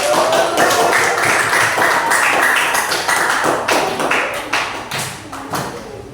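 Steady, dense clapping from a classroom audience rings out loud and close for several seconds, then thins slightly toward the end.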